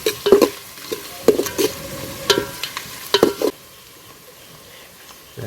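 Onions fry in a pot over a wood-fired village stove for a chicken and crab curry, with a soft sizzle under repeated sharp scraping stirs of a spoon that stop partway through.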